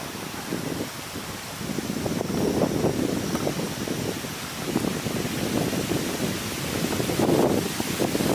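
Wind blows steadily outdoors, a continuous loud rushing with gusts that swell and buffet the microphone, alone with no talk.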